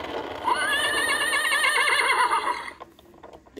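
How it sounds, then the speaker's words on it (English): A pull-string toy horse whinnies loudly with a warbling, trembling call for about two seconds, then cuts off abruptly into near silence. "Here's the horse."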